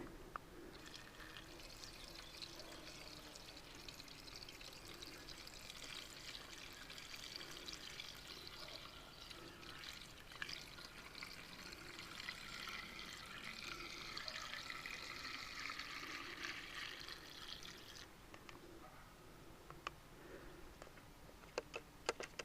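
Fuel for a Chinese brush cutter pours steadily into a tilted container, a continuous liquid gurgle and splash lasting around twenty seconds before tapering off near the end, fairly quiet with no talk.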